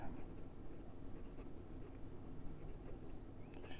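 A Hongdian N8 fountain pen with a smooth nib scratches quietly across paper, faint, continuous strokes with a light, papery texture, heard close up and with no talk over them.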